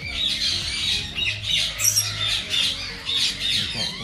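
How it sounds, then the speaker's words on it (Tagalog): Repeated harsh squawks from a blue-naped parrot, close and loud, coming in a steady series of calls over about four seconds with no talking. "I-DNA na po natin yung blue nape parrot"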